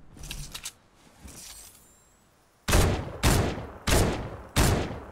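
Gunfire in Fortnite Battle Royale: four loud, evenly spaced heavy shots with sharp attacks and short decays, following a few fainter distant shots and quieter game sounds.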